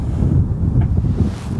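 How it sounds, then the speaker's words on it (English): Strong wind buffets the microphone on a golf course, a steady, loud rumbling roar that fills the whole stretch without letup and carries no voices. "Man, that wind's strong."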